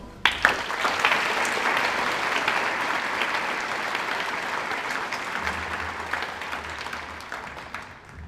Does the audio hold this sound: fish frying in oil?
no